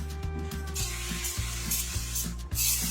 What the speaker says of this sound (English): I'm going to give that a quick spray